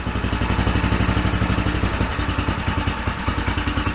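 A cold Predator 420cc engine on a two-seater go-kart runs loud and close, its steady, rapid chugging pulse holding throughout with a slight rhythm shift midway.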